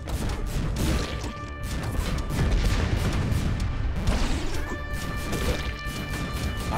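Rapid bursts of gunfire and crashing impacts in the run-and-gun game Iron Meat, loud and dense, layered over a driving metal soundtrack with no pauses.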